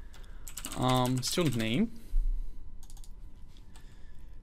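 Steady clicking of computer keyboard keys while code is written for an Android Room database, close and fairly soft, continuing through and after a man's brief spoken words.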